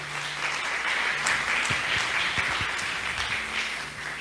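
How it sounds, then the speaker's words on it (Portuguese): Congregation applauding during a thanksgiving service at a church, a dense, steady burst of many hands clapping close by, lasting several seconds with a faint hum beneath. "Pode aplaudir ao Senhor pela vida do servo de Deus."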